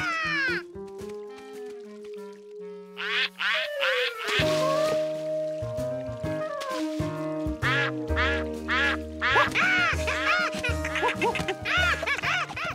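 Cartoon ducks quack repeatedly over a busy musical score, their nasal calls popping up in quick clusters, loudest toward the end as a happy finale plays in a children's animated show.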